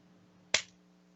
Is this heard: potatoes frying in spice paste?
no